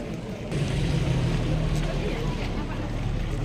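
Boat motor running on a river in Rimo, Aceh Singkil: a steady low engine drone with wind and water noise, close and continuous, with people talking under it.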